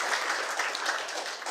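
An audience at a mortician conference applauds: a brief, fairly faint burst of dense clapping from many hands, heard alone.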